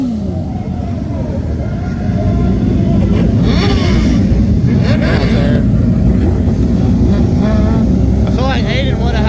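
Race car engine at i44 Speedway during a heat race, loud and continuous with rising and falling revs as the car circles, other cars passing, while people talk over it.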